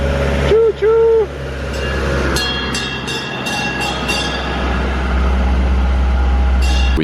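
A passing train in the spa town of Baile Herculane, Romania, gives a steady loud rumble with metallic rail squeals over it. Voices and a brief whistle-like tone come near the start, and the wheel and rail noise holds to the end.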